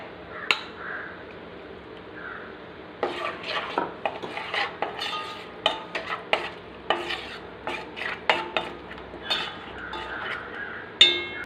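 A spoon scrapes and clinks repeatedly against a metal pot as a thick ground spice paste for sambar is poured in and stirred, with faint sizzling underneath.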